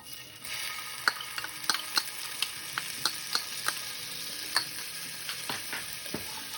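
Minced garlic sizzles in hot bacon grease in a pan for a creamy chicken bacon pasta, a steady bright crackle with scattered louder pops and spatters, close and alone.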